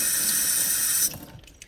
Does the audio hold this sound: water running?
yes